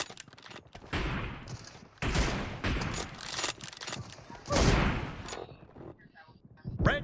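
Gunfire in the mobile battle royale game PUBG Mobile comes in several loud rapid bursts, spaced a second or two apart, with quieter game noise between them.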